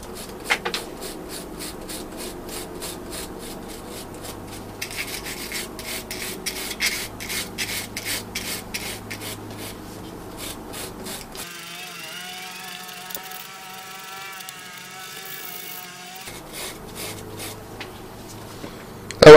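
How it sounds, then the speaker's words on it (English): Wire brush scratching corrosion off a car battery terminal, fast rhythmic rasping strokes at close range, with a short pause midway before the scrubbing resumes. "I think I'll start by just scratching off some of this corrosion to start with."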